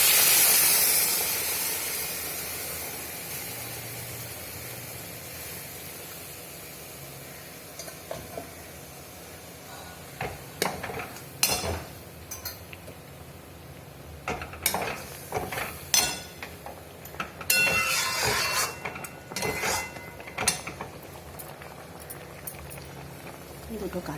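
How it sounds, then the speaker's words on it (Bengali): Boiling hot water poured into a pan of rice and pointed gourd curry: a loud initial hiss and sizzle of steam fades away, followed by scattered clinks and stirring scrapes of a utensil against the pan, with someone speaking over it. "এখন এর মধ্যে ফুটানো গরম জল দিয়ে দিলাম।"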